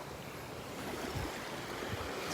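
Ocean waves washing over a sandbar at Delnor-Wiggins beach, a continuous broad surf roar with light wind buffeting, close and steady throughout.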